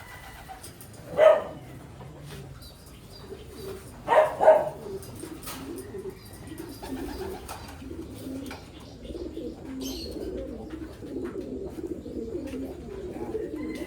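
A few soft racing pigeon coos and faint bird sounds come from nearby over low background noise, with louder calls early on and quieter ones later.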